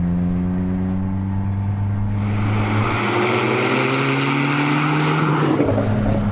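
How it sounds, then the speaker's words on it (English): Modified Skoda Fabia VRS diesel hot hatch with a stripped interior and loud aftermarket exhaust, its engine droning loudly and steadily up close, rising in pitch as it revs on, with no talking. "the car is incredibly loud"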